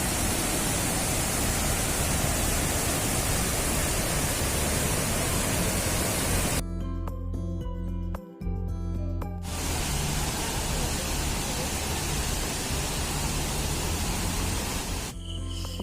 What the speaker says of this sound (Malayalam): വാഴച്ചാലിലേ ഇതാ അങ്ങനെ സ്ലോപ്പായിട്ടാണ് വെള്ളം ഒഴുകണേ